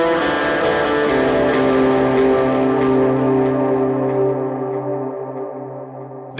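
Electric guitar played through a King of Tone overdrive pedal, a sustained, saturated chord ringing loud and steady, slowly decaying over several seconds, with no voices.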